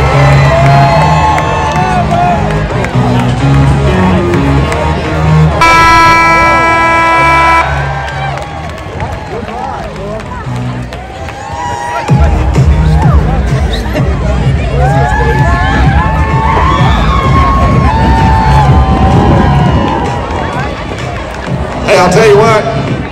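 Crowd at a rodeo in California cheers, whoops and claps in a loud, sustained roar, with an announcer talking over the noise and a brief tone partway through.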